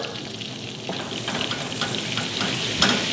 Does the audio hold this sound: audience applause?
no